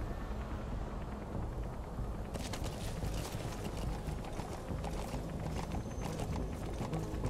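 Horse hooves gallop in Metal Gear Solid 5: The Phantom Pain, a fast continuous clatter over dense rumbling noise that keeps its pace without a break.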